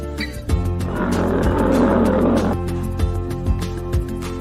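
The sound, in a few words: lion roaring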